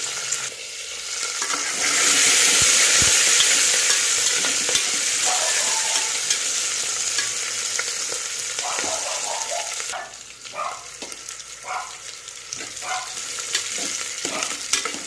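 Green chillies frying in hot oil in a pan, with a loud hissing sizzle that swells early and then settles into a steady crackle broken by stirring knocks, close and without voices.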